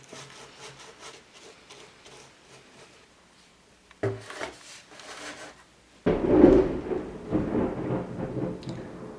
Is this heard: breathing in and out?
no